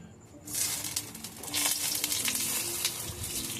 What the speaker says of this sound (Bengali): আমি এবার এক এক করে ফোড়ন দিয়ে দিচ্ছি